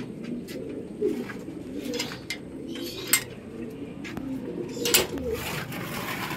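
Pigeons in a loft, including Jacobins, golden-eye birds and homers, coo in low continuous murmurs beneath scattered clicks and light clatter from the coop.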